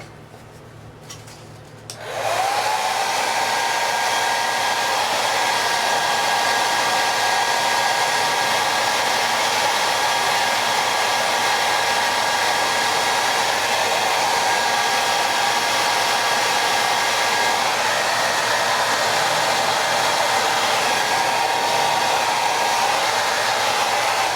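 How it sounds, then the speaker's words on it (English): A hair dryer switches on after a brief quieter moment and then runs with a loud, steady whirring roar for the rest of the clip. "let me get my hair dryer here."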